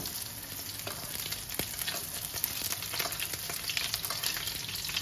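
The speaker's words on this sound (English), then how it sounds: "I'm gonna cook this garlic" Mashed garlic sizzles steadily in a frying pan alongside sea bream, a dense continuous crackle with occasional sharper pops and stirring, close and moderately loud with no voices.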